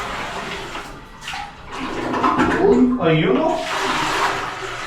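Water poured into a toilet bowl during a bathroom repair, a steady rushing splash that swells in the middle and continues under a man's brief spoken remark.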